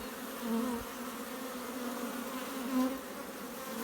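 Honey bees droning steadily at a hive in swarm mode, a dense continuous buzz with a few louder passes as bees fly close by.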